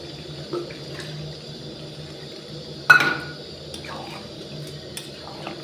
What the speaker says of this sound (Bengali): আমি এখানে হালকা করে জল অ্যাড করে দিই